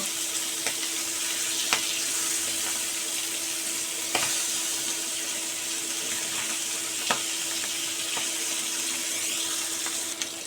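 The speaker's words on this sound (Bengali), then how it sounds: "মাছগুলোকে উল্টে আর এক পিঠে খুব ভালো করে ভেজে নেব" Tangra fish fry in a pan with a steady, bright sizzle that holds throughout, broken by a few sharp crackles and pops, close and fairly loud with no talking.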